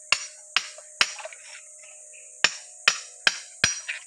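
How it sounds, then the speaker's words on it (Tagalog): A hammer strikes a steel bar while digging, sharp metallic clinks in uneven bursts, three quick hits, a pause, then four more, close and ringing briefly. "Ang gamit natin martilyo na lang."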